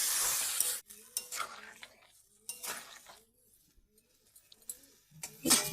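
Potatoes and drumstick pieces cook in a pan while water goes in. An initial hiss cuts off, followed by intermittent scraping, clinks of utensil on metal and bursts of stirring. A faint voice may murmur underneath.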